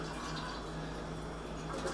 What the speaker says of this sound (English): I'm just kind of swishing this around and you know, letting it fall into the sink